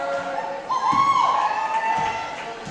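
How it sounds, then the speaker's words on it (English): Crowd cheering at a girls basketball game after a made free throw, a rising swell of shouts and voices in a gym, moderately loud with a few thuds. "if you can hear the cheers of the crowd"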